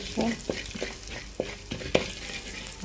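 Pepper frying in butter in a pan for a Goan beef or pork stew sizzles steadily while a utensil stirs, with several sharp scraping clicks against the pan.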